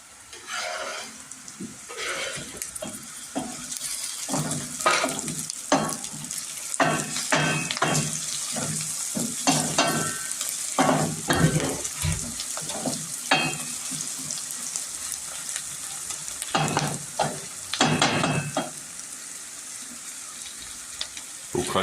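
Wild greens, including melocan, kırçan and thorny shoot tips, sizzle and fry in a pan outdoors while a spoon stirs them in repeated scraping bursts. Faint running water is also heard, with no clear talk.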